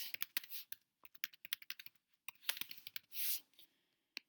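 Fingers type on a computer keyboard in close, fast bursts of crisp key clicks, separated by short pauses and one heavier stroke near the end, quiet and with no one speaking.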